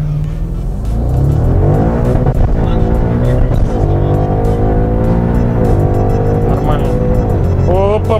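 An Audi RS6 launches hard from a standstill on an open road, its engine roaring loudly and climbing steadily through the gears with rising pitch, close and dominant throughout with brief tire noise.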